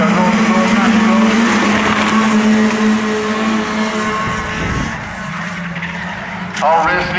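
Race cars lapping the track at Waterford Raceway, engines roaring loud and close with sustained revving, tire noise and a passing drone that shifts as the cars go by, under a commentator's continuous talk.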